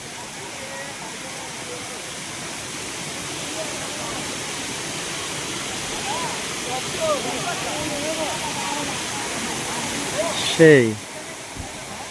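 Bheem Nala waterfall in North Sikkim roars as a steady, broad wash of falling water throughout, with a brief louder burst near the end and voices speaking faintly over it.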